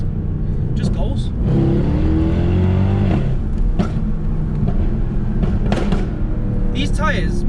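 Car accelerating hard on Michelin PS4 tyres in sport traction mode, a loud sustained engine roar building under someone talking throughout.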